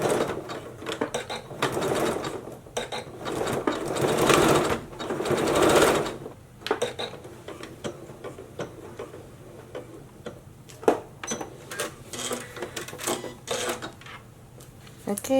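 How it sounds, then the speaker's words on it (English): Sewing machine running a quick stitch on fabric for a DIY tube top with sleeves, with the presser foot down; steady whirring bursts with ticking mechanical clicks, close, and a voice talking at times. "So we're going to put the presser foot down, secure it, and then do a quick little stitch."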